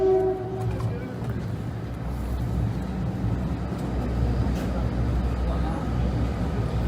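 A London King's Cross to Edinburgh Waverley passenger train rumbles past at steady, fairly close range, a continuous low roar of wheels and carriages that holds throughout, with a brief horn-like tone near the start.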